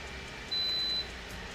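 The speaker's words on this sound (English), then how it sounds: "that beeping sound that you heard is actually activating the cooling plate" A Torras neck fan gives a single short, thin electronic beep as its cooling plate activates, clear against a faint quiet background.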